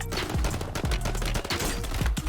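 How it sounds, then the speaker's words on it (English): Mortar strike explosions in a video game come as a rapid series of sharp booming impacts, several blasts landing close together at moderate volume. "Mortar strike."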